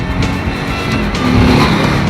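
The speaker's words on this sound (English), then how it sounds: "Now this Thunderstroke 111 engine is very impressive." An Indian Chief Classic cruiser motorcycle with a Thunderstroke 111 engine rides along, giving a loud, steady engine drone close up with wind noise and no talking.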